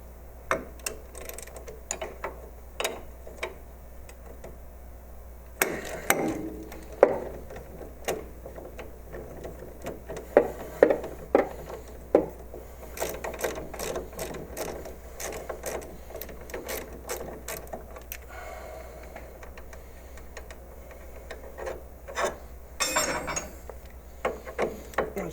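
A ball joint is removed from the front suspension of a Triumph TR sports car, heard as scattered close metallic clicks, ratcheting and clunks of hand tools over a low steady hum, with no talk.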